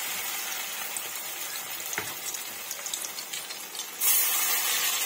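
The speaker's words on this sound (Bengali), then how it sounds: "উল্টে পাল্টে ভেজে নেব।" Radish fritters fry in a pan of oil, giving a steady, close sizzle throughout with a brief knock near the middle and a slight rise in hiss toward the end.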